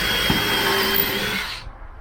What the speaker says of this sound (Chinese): 我是在这个木板尺上拧螺丝，因为螺丝很容易起下来。